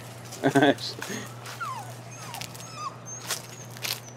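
Dogs whimper and yip nearby, giving a short burst of yips followed by thin, rising and falling whines spread across a few seconds over a low steady background hum.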